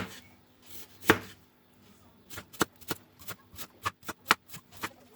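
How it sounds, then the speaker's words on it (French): A knife chopping shallots into thin rings on a board, one loud early chop then a quick irregular run of crisp taps, close and clear, no talking. "Pour les échalotes, c'est pareil, on va venir les couper en petites rondelles."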